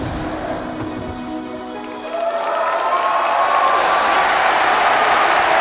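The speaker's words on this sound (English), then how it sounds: "as the crowd cheers unknowingly" A theater audience at a ballet performance in Black Swan bursts into swelling applause and cheering that rises suddenly and holds at a steady roar after a quieter orchestral passage.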